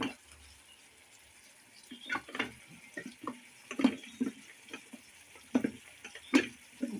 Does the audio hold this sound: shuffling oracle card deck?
no